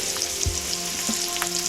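Garlic sizzling steadily in hot oil in a pan, a continuous close frying crackle with a few soft stirring knocks, no talk.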